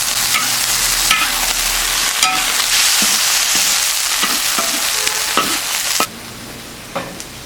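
Wild mushroom noodles being turned over in a sizzling pan, loud continuous frying hiss with scraping and clinking stirs, dropping to a quieter sizzle near the end, with no talk.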